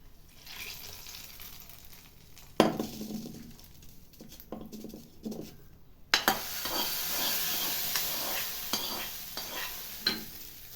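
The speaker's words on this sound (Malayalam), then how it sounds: "കടുക് വറുത്ത് ഒഴിച്ച് കൊടുക്കാം" Hot mustard seeds fried with curry leaves are poured into a jackfruit seed, drumstick and mango curry. Soft stirring gives way to a loud sudden sizzle that keeps crackling and hissing close by.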